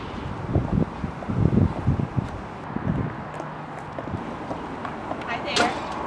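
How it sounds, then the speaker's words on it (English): Steady wind roars across the microphone in low buffeting gusts while people talk close by. "It's crazy weather. It's really windy."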